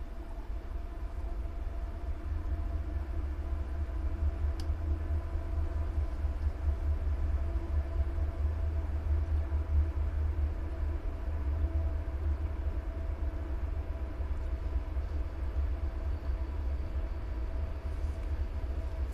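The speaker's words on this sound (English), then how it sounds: "Train's coming." Low, steady rumble of a train rolling past at a distance, continuous and fairly faint throughout, near a home with goats and chickens.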